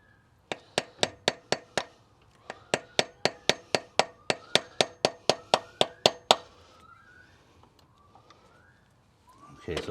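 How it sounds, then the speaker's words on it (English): A hammer lightly taps a hardened plastic coolant crossover pipe from a Subaru Impreza GC8 WRX EJ22, giving about twenty sharp, evenly spaced knocks in two bursts, then quiet with faint background sounds. "lightly tapping it with a hammer definitely got me inside of there"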